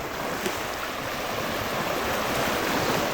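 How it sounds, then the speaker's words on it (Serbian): Sea waves wash continuously onto a beach in a broad, hissing roar, steady and fairly close, with no voices. "A evo kako izgledaju i ovi talasi."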